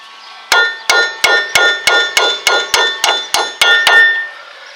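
A hammer drives a bolt out of the front wheel bearing assembly of a 2000-2008 Ford Focus: about eleven loud, sharp metallic blows land in a steady, even rhythm, close to the listener with no talking.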